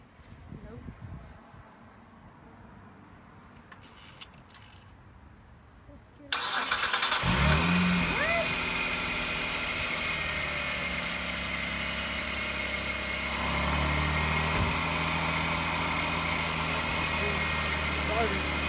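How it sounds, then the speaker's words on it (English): A 2000-2005 Mitsubishi Eclipse GT, jump-started after failing to start, cranks and catches at about six seconds, then settles into a steady, loud, close idle with a constant mid-range drone and slight rise near the end. "As you can see, the car started."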